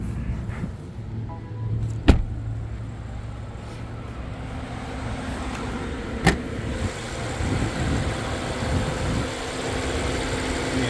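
A 2019 BMW M760i xDrive engine runs at a low, steady idle with a smooth hum, joined by a couple of sharp clicks and faint mechanical sounds.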